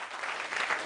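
Crowd applause at a Réunion comedy club, a short burst of many hands clapping evenly, close and full.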